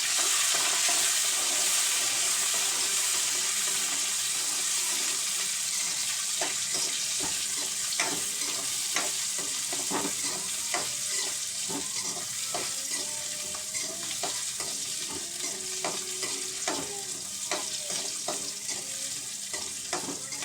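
Steady sizzling of chopped onions and tomatoes frying in a pan, with frequent scraping and clinking of a spatula stirring throughout, close and fairly loud.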